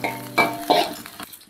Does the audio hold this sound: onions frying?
yes